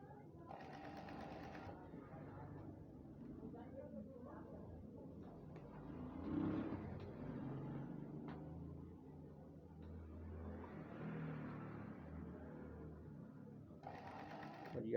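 A sewing machine stitches a men's kurta, its close, steady motor hum and needle clatter running throughout while someone talks over it, with short brighter whirring bursts at the start and end.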